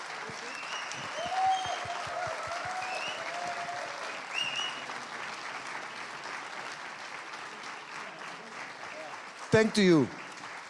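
Audience applause at the close of a Drupal conference session rolls on evenly for several seconds and tapers off, then someone speaks briefly over the last claps.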